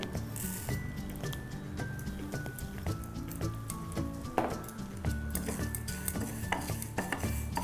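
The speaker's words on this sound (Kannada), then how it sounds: "ಧನಿಯಾ ಹಾಕ್ಕೊಳ್ತಾ ಇದ್ದೀನಿ" Dry urad dal and coriander seeds stirred and toasted in a metal pan on the stove, with a steady scraping of spoon against the pan and faint sizzling underneath, no talking.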